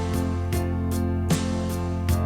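Sustained keyboard chords ring steadily while a light altar-style drum pattern taps out soft, evenly spaced hits underneath, giving a gentle groove.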